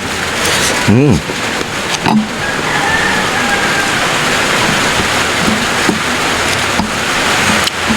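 Heavy rain pours steadily in a dense hiss, with a vehicle passing and brief knocks rising above the constant downpour.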